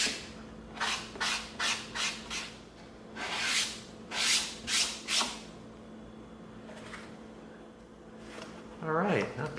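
EVA foam for a sword prop is sanded by hand with 220 grit sandpaper, making a run of close rhythmic rasping strokes in quick bursts, then quieter rubbing and a short clatter at the end.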